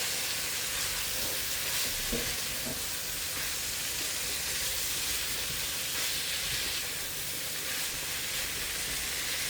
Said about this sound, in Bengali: এটাকে হচ্ছে ভালো করে সব কিছুর সাথে মিক্স করে ভালো করে পোড়া পোড়া করে নেব।